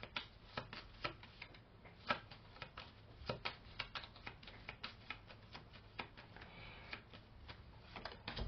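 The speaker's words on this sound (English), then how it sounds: "Let's discard these German cards." Playing cards for the board game Undaunted Normandy being shuffled, drawn and set down on a table, a steady run of soft, close card flicks and taps with no talking.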